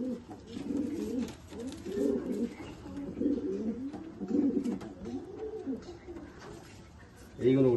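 A female pigeon close by repeats soft, rolling coos in a steady cycle, with a voice speaking quietly underneath and a louder coo at the end.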